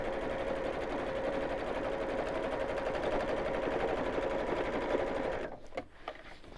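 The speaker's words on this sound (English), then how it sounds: "we'll sew all the way around" Sewing machine stitching around the lining and flap of a simple messenger bag, a fast steady motor whir with rapid needle chatter that runs continuously, then stops abruptly near the end with a few clicks.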